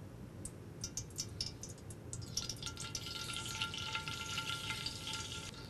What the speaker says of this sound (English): We're going to add our grease, our oil.